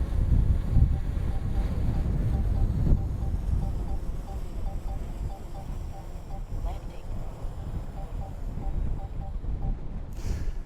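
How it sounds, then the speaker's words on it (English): Steady wind roars across the microphone of a DJI Air 3 drone flying outdoors on a gusty day, a continuous low rumble with a faint motor whine, loud throughout and alone. "What I'm saying is windy today."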